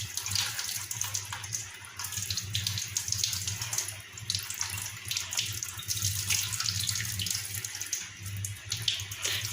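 A tap runs steadily into a basin while hair dye is rinsed off, a continuous close splashing gush of water with slight shifts in flow and no speech.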